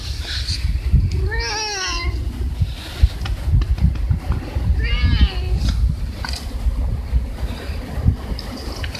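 A cat on Tashirojima cat island gives two clear, drawn-out meows close to the microphone, amid wind noise and rustling outdoors.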